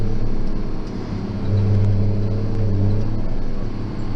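A New Holland tractor baling broken hay bales, its engine producing a steady low rumble with a slight swell in the middle, continuous and fairly close.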